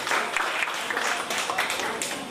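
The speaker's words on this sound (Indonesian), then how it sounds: "tepuk tangan dulu." Audience clapping at an evening conference of the GP Ansor Panakkukang branch, a dense, steady patter of many hands filling the room for the whole stretch without pause.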